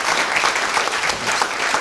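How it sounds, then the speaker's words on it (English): Steady applause from an audience at an Auckland supercity forum session, a close, even wash of many hands clapping without a break. "A very warm round of applause"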